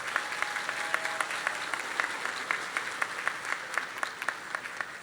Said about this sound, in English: let's give the class of 2025 a round of applause